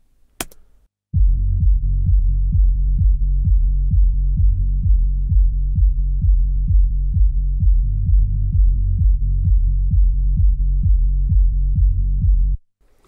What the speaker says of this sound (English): I'm going to show you how 1 dB of compression sounds and what it does to the mix